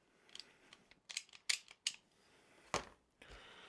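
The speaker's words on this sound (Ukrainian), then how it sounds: "Також є ножиці для труби." Pipe-cutting scissors from an axial press tool kit are handled, giving a run of sharp metallic clicks and snaps at irregular intervals, close and fairly loud, with no speech.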